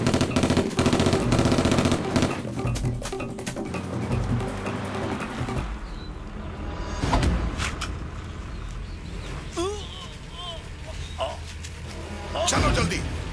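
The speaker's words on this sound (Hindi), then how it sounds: "तू क्या देख रहा है? गोली मार रहा।" Gunfire in a Hindi-dubbed South Indian movie action scene: a dense burst of rapid, loud shots at the start, then scattered sharper cracks amid music, with voices talking over it.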